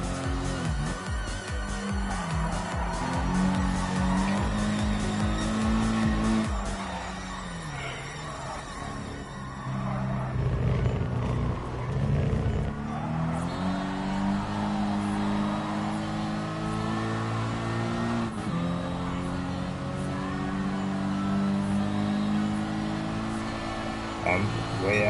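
Race car engine in a racing video game, a sustained loud drone that rises and falls in pitch with gear changes and revving, shifting sharply around a third of the way in and again midway.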